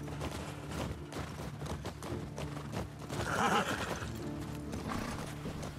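Horses in The Last of Us Part II whinny and neigh over a run of hoof clip-clops and tack rattles, fairly close, with the loudest neigh about midway, faint overall and with no talk.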